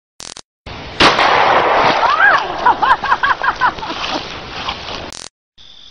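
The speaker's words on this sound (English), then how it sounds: "let's shoot in a slug" A shotgun slug is fired outdoors with a single sharp, loud blast, followed by excited shouting voices and laughter.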